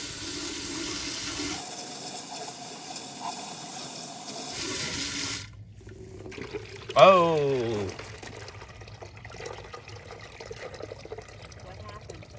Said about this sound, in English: Now I'm going to backwash it with the garden hose again.